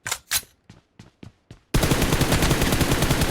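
Gunfire in the mobile shooter PUBG Mobile: several separate sharp shots, then a loud unbroken burst of rapid automatic fire, all close with no voices.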